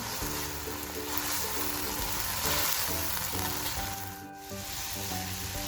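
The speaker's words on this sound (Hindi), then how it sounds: "पीसी हुई काली मिर्च, ज़ीरा, ओरिगेनो। अब हम भूनेंगे इनको।" Black pepper, cumin and oregano roast in a pan with a steady close sizzle and stirring strokes, a low humming tone underneath and a brief dip in the noise near the end.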